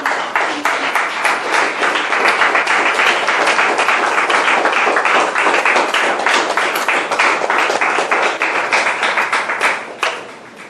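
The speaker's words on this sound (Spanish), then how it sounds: "Bríndale un fuerte aplauso." Church congregation giving a strong round of applause during a sermon, dense rhythmic clapping that holds loud and steady for about ten seconds before tapering off at the end.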